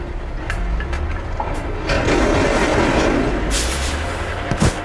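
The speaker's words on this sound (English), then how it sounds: "Dump truck." A dump truck's heavy engine gives a loud, close, broadband diesel rumble with hiss, growing stronger midway and staying steady, with a few short knocks near the end.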